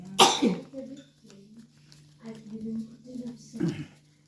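A sharp sneeze bursts out at the start, followed by people talking quietly, with another brief throaty outburst near the end.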